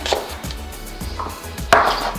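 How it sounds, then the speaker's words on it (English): A knife chops vegetables for a loaded hummus on a cutting board, giving four crisp, close thuds spaced unevenly, the last one the loudest. "Give these a quick chop"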